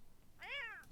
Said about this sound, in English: Oh dear, cat fight happening.